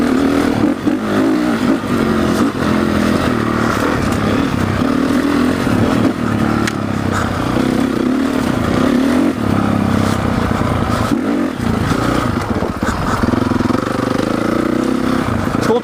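A Honda CRF450 dirt bike engine revs hard and steadily as the rider tries a wheelie on a nearly worn rear tire, loud and close with wind noise throughout.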